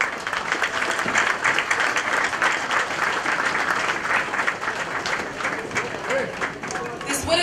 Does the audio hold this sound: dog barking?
no